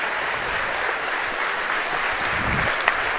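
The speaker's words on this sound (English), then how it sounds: "So round of applause goes out to Joey Scalisi as he's going to get up." Audience at a Wisconsin sports event applauding an injured player as he gets up, a steady, even wash of clapping from many hands with a few sharper claps standing out near the end.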